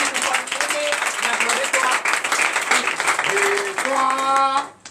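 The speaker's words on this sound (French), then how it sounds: "que je vous demande d'applaudir encore très fort" Church congregation applauding during a night service of deliverance and prophecy, a dense steady clatter of many hands with sustained tones rising over it, fading out at the end.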